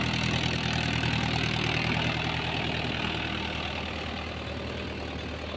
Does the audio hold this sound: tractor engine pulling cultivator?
yes